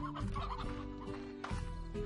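A stony hen from the video game Slime Rancher clucks steadily over constant game background music, with no talking.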